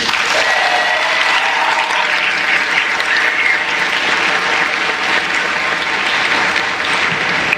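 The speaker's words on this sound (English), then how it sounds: "Another round of applause for them." A school welcome-back gathering breaks into steady, sustained applause from a large audience, dense and loud clapping that holds evenly throughout without pause.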